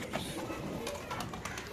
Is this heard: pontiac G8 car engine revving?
no